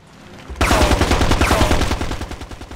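Automatic fire from a SCAR rifle in the PSP game Ghost Recon Advanced Warfighter 2, a loud, rapid, evenly paced burst of shots that starts abruptly and runs for about two seconds.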